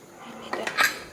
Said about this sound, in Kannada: ಸೊ ಇದು ಕುಕ್ಕರ್ ಮುಚ್ಕೋತೀನಿ.